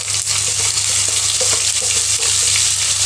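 Onion paste frying in a pan of oil with cinnamon, cardamom and dried chilli for a Bengali katla fish kalia, giving a loud, steady close sizzle with stirring scrapes and no talk.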